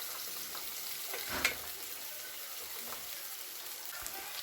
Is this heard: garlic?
yes